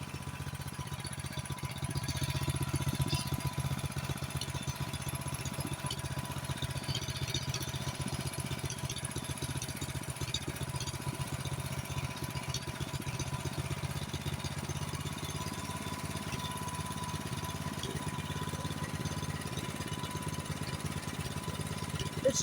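Engine of a Honda HS828 snowblower running at idle, a steady low rumbling drone with a fine rapid pulsing, unchanging over about twenty seconds, close and moderate in level with no talk.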